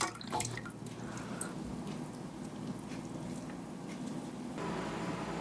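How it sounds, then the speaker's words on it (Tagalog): Clean water splashes and drips steadily while banana heart is rinsed in a kitchen, a close, continuous patter with a slightly louder stretch at the end. "at saka huhugasan uli ng malinis na tubig"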